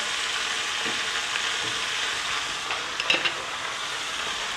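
Chicken pieces for chicken piccata fry in a pan, giving a steady, close hissing sizzle with a few faint scrapes and clicks of a utensil partway through.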